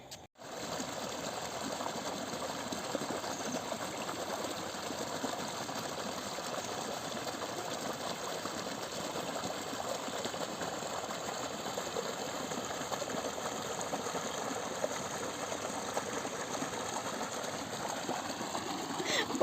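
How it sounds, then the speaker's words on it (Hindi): Water gushes steadily through an irrigation canal outdoors, a continuous broadband rush that holds an even level throughout with no clear breaks. "पानी की आवाज़ आ रही है भाई"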